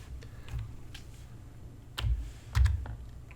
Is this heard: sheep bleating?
no